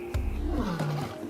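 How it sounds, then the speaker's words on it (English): A lion gives a single deep, throaty roar, close and fairly loud, with a rough onset and a falling, groaning tail across about a second. "Lions have the longest larynxes or voice boxes and are capable of the loudest roars"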